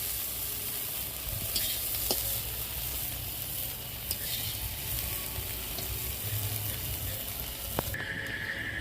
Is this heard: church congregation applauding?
no